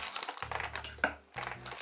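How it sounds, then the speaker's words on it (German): Plastic packaging for a JR Farm Train the Brain Roll pet toy is cut open with scissors, giving close crinkling and tearing crackles in two bursts with a brief pause between them. "Schneide es hier einfach mal auf."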